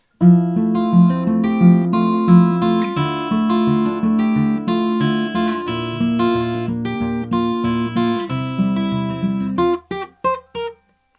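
A fast, up-tempo fingerpicked guitar melody over chords, crisp staccato plucked notes in a quick steady run, close and alone, ending in a few separate clipped notes.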